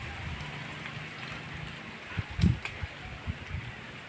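Banana trees thrashed by strong wind just before rain in a rural yard: a steady soft rustling hiss of leaves with a few muffled thumps, fairly faint.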